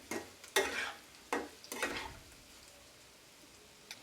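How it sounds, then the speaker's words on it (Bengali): Matar paneer gets stirred in a frying pan: a few quick scraping strokes over a faint sizzle, then the hiss settles quietly with one last light tap. "আমি এবার এটাকে একটু ভালোভাবে নেড়ে দিচ্ছি"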